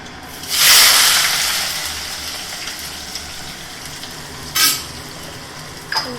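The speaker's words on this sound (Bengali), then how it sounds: "তেল গরম হয়ে গেছে এখানে ফোড়নের জন্য দিয়ে দিচ্ছি একটু গোটা জিরে এবারে আলুটা যে কেটে রেখেছি সেটা দিয়ে দেবো" Cut potatoes go into hot oil tempered with whole cumin seeds, letting out a loud burst of frying sizzle that fades into a steady crackle. Shorter surges of sizzling and stirring follow later. No one speaks.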